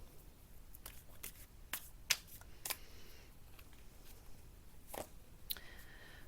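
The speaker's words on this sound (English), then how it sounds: "let me pull another card to clarify for singles" A tarot card drawn and flipped from the deck, a few soft papery slides and sharp clicks scattered across a quiet room, close and faint with no talking.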